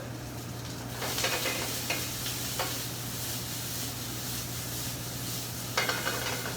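Egg yolks and a reduction are whisked in a pan over a very low burner for a salmon dish. Soft, scattered scraping strokes sit over a steady low hum and faint background noise, with no talking.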